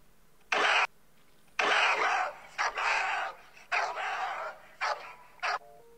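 A dog barks in several short, sharp bursts with brief pauses between them, fairly close and loud, with no talk over the barks.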